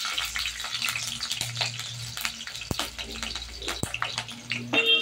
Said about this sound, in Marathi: आता बघा, आपण तेल तापल्यानंतर आधी मिरची घालणार आहे